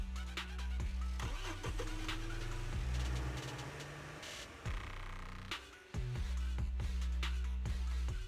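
A truck engine cranks and starts in the video game Zenless Zone Zero, low rumbling turnover that catches and runs steadily, with a brief dip before the engine roars again, loud and close.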